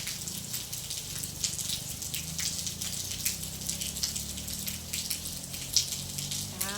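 Light afternoon rain falls steadily, a soft continuous patter and hiss of drops on surfaces, fairly close and even throughout, with no voices.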